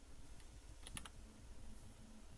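A quick pair of computer keyboard key presses lands near the middle, sharp and faint clicks against a quiet room hum, with no talking.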